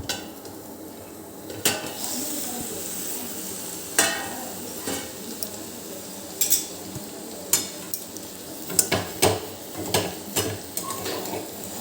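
A potato and ivy gourd curry is stirred in a pan, with scattered metallic scrapes and clinks of a spoon that grow more frequent toward the end over a faint background hiss.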